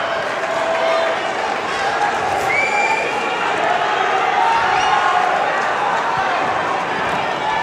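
Spectators in a judo arena at the 2017 World Judo Championships give a sustained, loud crowd roar and cheering with no let-up, close and dense throughout.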